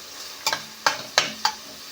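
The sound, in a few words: chopped onion frying and stirring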